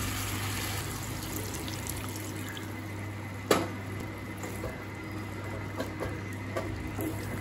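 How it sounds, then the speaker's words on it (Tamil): Water is poured into chicken gravy in a cooking pan, a soft steady trickle over a constant low hum, with one brief clatter midway. "தேவையான அளவு தண்ணி சேர்த்துக்கலாங்க."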